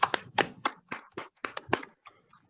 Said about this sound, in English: I think everyone can unmute themselves and clap